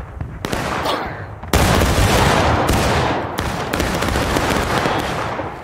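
A loud gunfire volley in a video game: a sharp single crack, then a heavy massed volley of many rifles crashing together, with further shots rolling on and echoing away, close and with no talk.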